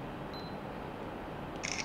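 A camera fires with flash after focus is locked by half-pressing the shutter button; one brief mechanical shutter click comes near the end over a steady faint background hiss.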